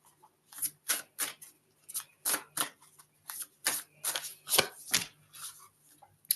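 Tarot cards being shuffled by hand in short bursts of papery riffling and slapping, close up and fairly clear, with brief pauses between bursts and no talk.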